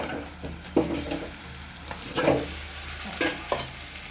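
Mutton pieces for a curry frying in a pan, with a quiet sizzle under several distinct scraping stirs that come at irregular intervals.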